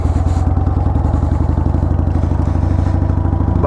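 A Harley-Davidson 883 Sportster Hugger idles close and loud with a rapid, lumpy low-frequency potato-potato beat, steady throughout, with no talking.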